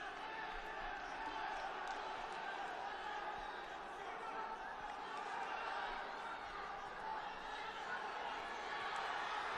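Crowd at a judo Grand Prix tournament in Tashkent, a dense distant murmur of many voices with scattered laughter and chatter, steady and faint throughout the arena.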